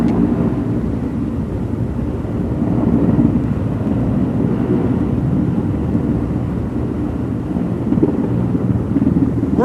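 A helicopter lowers a piece of the Our Lady of the Rockies statue onto a mountain near Butte, Montana, its engine and rotors making a steady, heavy low rumble with wind noise, continuous and loud.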